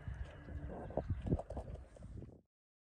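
Hoofbeats of a Tennessee Walking Horse being ridden in an arena lesson at a flat walk or running walk, a quick irregular series of soft thuds at close range, no talk, cutting off abruptly near the end.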